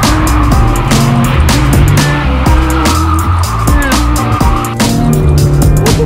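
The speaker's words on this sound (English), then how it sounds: "He's going in the car, they're going to do some donuts." A car does donuts on a track, its tires squealing in loud, sustained bursts over a revving engine that rises and falls, close and continuous throughout.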